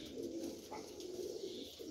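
Flying pigeons coo softly in repeated low, throaty phrases, close by and steady, with no talking over them.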